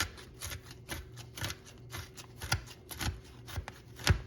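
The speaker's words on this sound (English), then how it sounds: "So we're literally chopping the bacon into it." Bacon being chopped on a cutting board for a chopped salad, a quick run of light, crisp knife taps going back and forth, close and fairly soft, with no talking.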